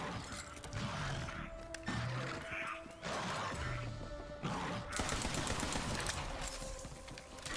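Gunfire from a tracking gun in the video game Borderlands 3, heavy bursts of shots and crashing impacts in several loud clusters with short gaps between them, in the midst of busy game action.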